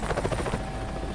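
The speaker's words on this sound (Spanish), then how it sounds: "Hombre, por fin, el helicóptero." Helicopter rotor chop in Resident Evil 5, a loud close throbbing beat over a dense low engine roar, heard alone.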